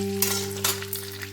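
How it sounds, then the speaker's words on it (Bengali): Fish heads fry in a pan of oil, giving a soft, brief sizzle with a few faint clinks over a steady low hum. "আমি তেলের মধ্যে ভেঙে রাখছি মাথাগুলো, যাতে ভালো মতন ভাজা হয়ে যায়।"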